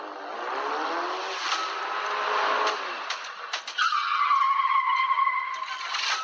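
Cartoon race car skidding and screeching through a turn, with engine whine and a long, loud tire squeal that rises near the end and continues alone without voices.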